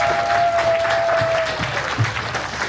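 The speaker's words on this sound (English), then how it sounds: "How about a round of applause for our finalists?" An audience applauds quiz finalists at a teachers' departmental knowledge bowl, a dense steady patter of clapping filling the room at close range, with a faint tone hanging briefly under it.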